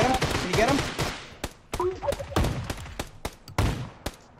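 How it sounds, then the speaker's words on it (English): Shotgun fire in a battle-royale video game, several sharp broadband blasts spaced irregularly across the stretch, fairly close, with game sounds and a faint voice around them. "I killed him with my shotgun from that distance."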